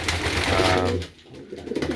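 Pigeons cooing in a stock loft, a close, low, throaty coo that rolls for about a second, fades briefly, then resumes softly.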